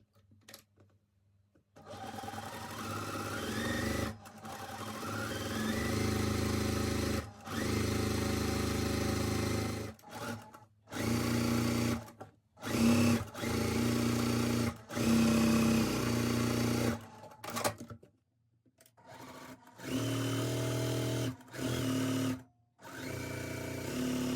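A sewing machine stitches quilt half-square triangles in long, loud motor runs, starting and stopping repeatedly with brief pauses between seams.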